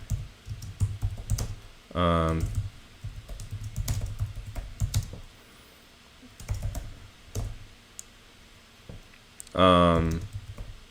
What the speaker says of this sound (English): I'm going to type up the moves that we have so far.